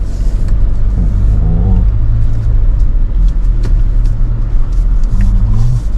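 A Tank 300 SUV churns through deep mud at a Tank Fest off-road event. The engine rumbles loudly and steadily close by, rising and falling with throttle, and faint voices sit beneath it.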